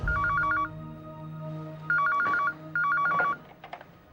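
A telephone rings in repeated electronic trills, three bursts separated by pauses, over a low steady background hum.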